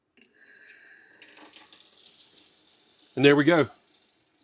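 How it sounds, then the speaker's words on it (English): Water gushes from a repaired RV faucet in a short, loud burst after a faint hiss, with a voice talking briefly before it. "But now we're going to turn on the water and see what happens."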